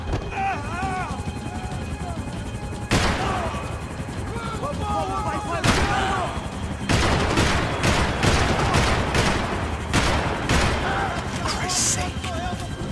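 Gunfire crackles through a tense Max Payne cutscene: sharp bursts and rapid volleys, growing denser toward the end, mixed with loud shouting voices and a constant roar of noise underneath.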